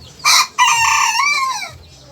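A Sebright bantam rooster crows close by in a small backyard coop, a short, loud, high-pitched call with a clipped first note followed by a drawn-out, falling tail.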